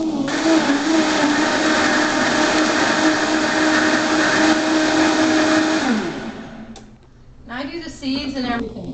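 A blender whirs loudly at a steady pitch while blending a green smoothie of cucumber, fruits and seeds, then winds down and stops after about six seconds, followed by a voice talking.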